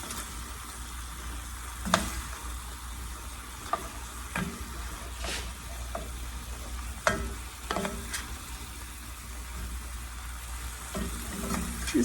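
Beef barley soup ingredients stirred in a pot over steady sizzling heat, with intermittent sharp clinks and scrapes of a utensil against the pot spread across the span, close and unaccompanied by speech.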